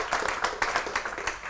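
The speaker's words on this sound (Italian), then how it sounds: "Facciamo un applauso a Simone." Light applause from a small audience at an Italian talk, a steady patter of claps lasting over a second, close and fairly soft with no voices over it.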